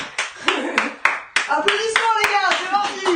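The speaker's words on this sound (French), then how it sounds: "Applaudissements les gars, c'est parti." A small group in a television studio claps in scattered, uneven bursts, with a voice talking over the hand claps throughout.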